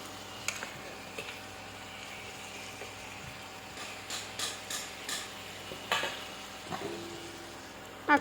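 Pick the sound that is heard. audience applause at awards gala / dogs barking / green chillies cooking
green chillies cooking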